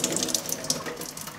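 Water running from a tap splashes over a parkerised steel part being rinsed, a steady close spatter with small irregular drips and splashes throughout.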